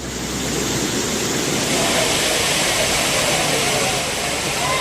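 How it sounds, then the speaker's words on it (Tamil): Water roars down the Courtallam waterfalls in Tenkasi district, a dense, loud, steady broadband rush with no letup, while a voice talks over it. "மெயின் அருவி, ஐந்தருவி, பழைய குற்றால அருவி, சிற்றருவி, புளியருவி உள்ளிட்ட அனைத்து அருவிகளிலும் தற்போது தண்ணீர் ஆர்ப்பரித்து கொட்டுகிறது"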